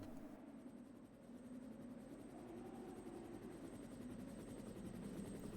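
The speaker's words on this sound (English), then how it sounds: "So now we just set off the flare, and we call the helicopter" A helicopter in Resident Evil on the original PlayStation, arriving after a signal flare is set off. Its steady, loud rotor chop and engine drone run continuously through the whole stretch, with no talk over it.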